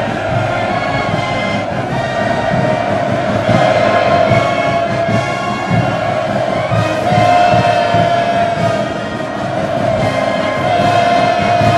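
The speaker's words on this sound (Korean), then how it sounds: "열광적으로 환호하는 어린이들, 학생 소년들과 군중들의 앞을 지나며" Big crowds of children, students and other people cheer enthusiastically along a welcoming route during Xi Jinping's visit to North Korea. It is a steady, dense roar of many voices that stays loud throughout, with shouting and chanting mixed in.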